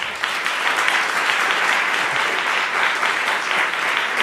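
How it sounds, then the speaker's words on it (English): Sustained audience applause at a digital health conference, steady and dense clapping from a large crowd throughout, fairly loud and close with no talking over it. "Another quick round of applause for our fantastic speaker here."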